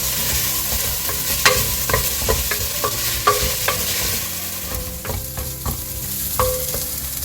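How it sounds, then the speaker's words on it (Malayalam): Onions, green chillies and curry leaves sauté in a pan for chicken curry, giving a continuous loud sizzle broken by regular scraping and clinking strokes of a spoon stirring through the mixture. "അതുപോലെ തന്നെ പച്ചമുളകും കറിവേപ്പിലയും കൂടെ ചേർത്ത് നന്നായിട്ട് ഇനി വഴറ്റിയെടുക്കാം."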